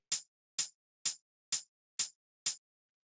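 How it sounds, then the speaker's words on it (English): Six crisp, short closed hi-hat hits land evenly on the upbeats of a deep minimal house groove, each a bright, dry tick with a quick decay, standing alone against silence. "it's just a hi-hat playing on the upbeats"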